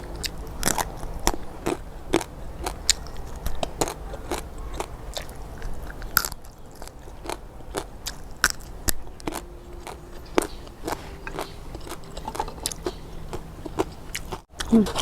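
Someone eats a dish of bamboo shoots with pork belly alongside pea eggplants, making close, crisp bites and crunchy chewing in a steady, uneven rhythm for the whole stretch, with bits of talk between mouthfuls.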